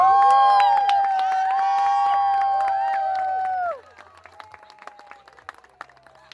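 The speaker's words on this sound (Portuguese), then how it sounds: "Aplausos, pessoal!" Wedding guests applaud together, starting at full strength and then thinning out into a few scattered claps. Loud tonal music or voices sit over the opening seconds before dropping away.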